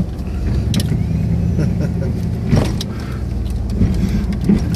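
A snowplow truck pushes through about three and a half feet of drifted snow, its engine rumbling steadily and loudly up close, with scattered clanks and a heavier thump midway.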